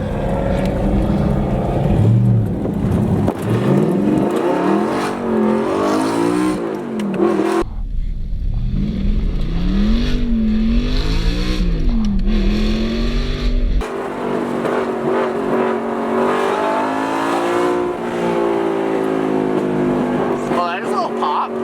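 Cars including a McLaren 720S rev and accelerate on a main street, loud sustained engine roars with rising and falling pitch sweeps, several passes in succession, with people talking over them.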